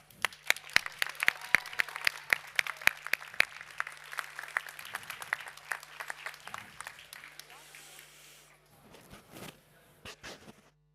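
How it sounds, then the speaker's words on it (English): Audience applause at a Swedish sommelier championship, sharp scattered claps filling the room for several seconds before thinning out to a few last claps. "A big applause."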